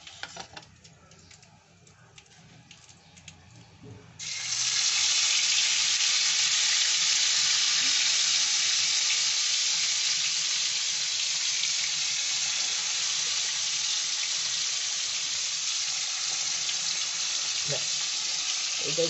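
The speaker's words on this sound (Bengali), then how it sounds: "মশলা ছাড়াই শুধু চিকেনগুলো ভেজে তুলছি" Chicken pieces fry in a pan without any spices, a loud steady sizzle that bursts in after a few quiet seconds of handling and holds strong to the end.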